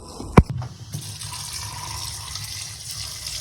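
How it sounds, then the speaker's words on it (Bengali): Raw chicken pieces being washed under a running kitchen tap, a sharp splash at the start followed by a steady, loud gush of water. "চিকেনগুলো ভালোভাবে ধুয়ে নিচ্ছে"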